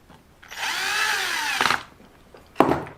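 A handheld electric screwdriver whirs in one sustained rising-and-falling run while driving a bolt into an LC Racing RC car bumper, then gives two short sharp bursts, close and clear.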